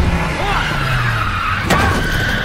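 A car skids away during a film chase, tires squealing in rising and falling tones over engine roar, with a voice narrating over the top.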